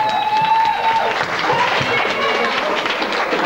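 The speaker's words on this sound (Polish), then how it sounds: "duże brawa dla Miss i Mistera Studniówki" Applause at a school prom ball for the crowned Miss and Mister, dense clapping from a crowd filling a hall, steady and loud, with a sustained tone fading out early on.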